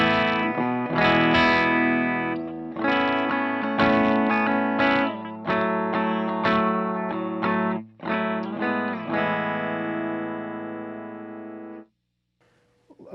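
Electric guitar through a Mesa Boogie Badlander 50 combo amp with the gain backed off, mildly broken-up chords and notes played in phrases with short pauses, ringing alone until the final chord cuts off.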